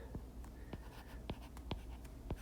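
Chalk or marker taps and strokes across a board as an equation is written, a series of short, close, sharp contacts spaced irregularly over quiet room tone.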